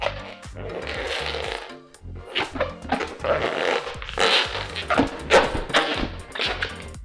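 A latex heart-shaped balloon, partly deflated to palm size, is twisted by hand into a small bubble, giving dense squeaky rubbing and crinkling with a few soft thumps, close and continuous, no talking.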